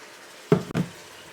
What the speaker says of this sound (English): so I'll add some water